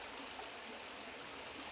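The Jordan River flows along a pathway on a sunny day, a steady, close broadband rush of running water with no talk over it.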